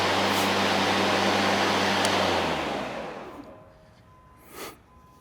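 A Kobalt battery-powered lawn mower runs with a loud, steady whirring drone, then winds down and fades into quiet over its last seconds, with a faint brief sound near the end.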